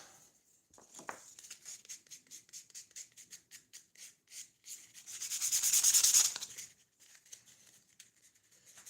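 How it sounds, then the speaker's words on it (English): A chisel shaves wood on a handmade phone stand in a home workshop, making a close, rhythmic series of short scraping strokes followed by a longer, louder rasping pass, with no talking. "just peel that off with a chisel and done the job"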